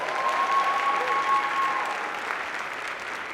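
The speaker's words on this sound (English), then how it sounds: "Please give her another big round of applause." Audience applause at a Manhattan borough president's State of the Borough address, dense steady clapping from a sizable indoor crowd, fading slightly toward the end, with no speech over it.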